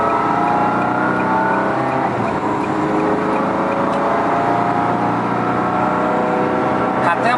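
Ferrari 360 Modena engine droning steadily while driving, loud and continuous with a broad hum under a voice speaking in Greek, holding a fairly constant pitch with no sharp revving peaks.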